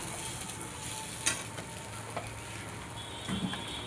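Egg chow mein fries in a pan with a steady close sizzle, a few soft utensil taps and scrapes breaking through the continuous hiss.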